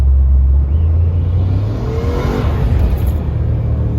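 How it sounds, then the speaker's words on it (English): A truck engine revving hard near wide open throttle after an accidental downshift, a loud close roar that swells and then eases slightly, heard alone. "Accidentally downshifted. Almost wide open throttle."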